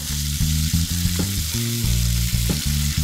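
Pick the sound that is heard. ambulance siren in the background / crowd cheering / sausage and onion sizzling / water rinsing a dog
sausage and onion sizzling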